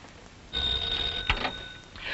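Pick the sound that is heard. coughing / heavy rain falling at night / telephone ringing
telephone ringing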